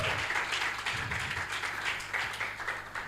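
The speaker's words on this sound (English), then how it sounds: "Please, another round of applause for our panelists." Conference audience applauding panelists at a culture and values conference, a dense, even patter of clapping that carries on steadily with a low hum of room noise underneath and no talk.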